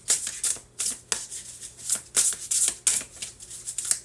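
Tarot cards are shuffled by hand close to the microphone, a quick series of crisp riffling and slapping bursts in an uneven rhythm, fairly soft, with no talking over them.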